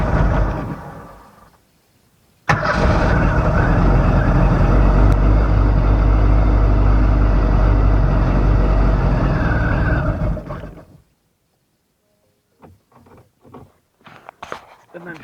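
A boat engine on a home-built boat roars loudly to life after a brief cough and runs steadily for about eight seconds before cutting out abruptly from fuel starvation, followed by near silence and a few faint clanks.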